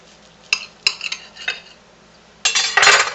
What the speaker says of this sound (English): let's slice it and see how good it tastes